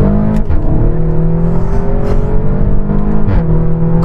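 A Seat Cupra Black Carbon 400 CV revs hard under acceleration. Its engine tone climbs steadily, with brief dips where the DSG gearbox shifts, loud and close.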